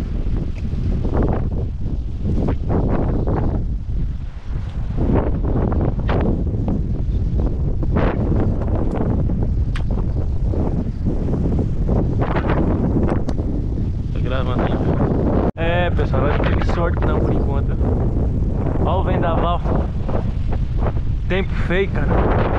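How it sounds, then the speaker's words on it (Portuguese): Strong wind buffets the microphone outdoors on the water while fishing, a loud continuous roar with gusty surges; people talk now and then under it. "Já percebeu que toda vez que nós vem aqui tá ventando?"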